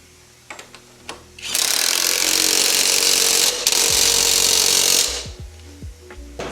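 A power tool tightens the axle nut on a Harley motorcycle wheel during a tire change: a few light metallic clicks, then a loud continuous whirring burst of about three and a half seconds with a brief dip midway, close up, followed by small clinks.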